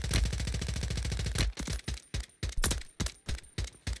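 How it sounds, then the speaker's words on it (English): Gunfire from a 100-round AMR in Warzone 3, starting with a dense unbroken automatic burst, then continuing as sharp separate shots in a loud, uneven rhythm with no talk over it. "He's never stopped shooting."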